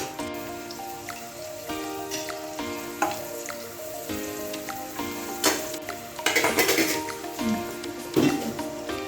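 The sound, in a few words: frying cashews and raisins in ghee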